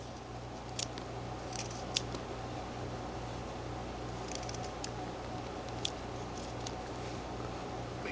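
A knife whittling a three-inch block of wood, faint close scraping and small sharp cuts, with a few distinct snaps spaced a second or more apart over a quiet steady background hum.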